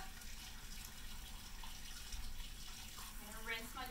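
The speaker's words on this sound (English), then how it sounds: "Dump the old water in my denture cup." Old water is dumped from a denture cup into a sink during denture care, a steady splashing, running-water wash that continues throughout, close and moderately loud.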